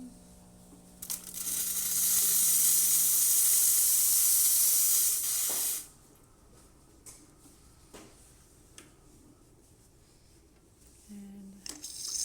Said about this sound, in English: and I'll show you the steam.